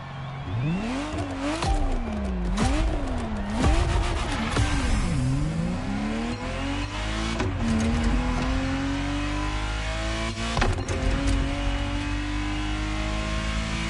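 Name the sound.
Ferrari Testarossa driving in video game The Crew Motorfest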